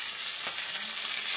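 Garlic, mustard seeds and cumin sizzle steadily in hot oil for a quick idli sambar tempering, with a close, even hiss and no talking.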